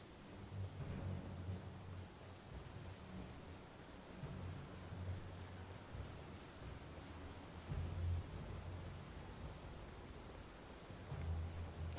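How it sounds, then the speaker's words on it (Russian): Blizzard wind howling in the video game Elden Ring, a steady, dense rush of low roaring noise with gusty swells, faint and continuous with no voices. "Здесь какие-то ветра, какой-то ураган, буря вообще."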